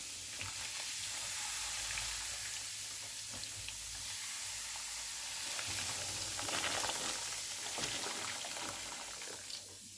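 Boiling water from a kettle pours over wooden spoons in a pot, giving a steady hissing, sizzling wash of liquid that runs continuously and fairly close throughout, with a few brief bubbling bursts and no talk.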